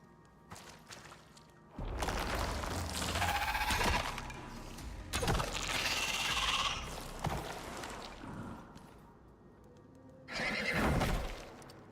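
A video game horse whinnies loudly several times in separate bursts, with clip-clopping hooves and thuds between the calls, close and clear without speech.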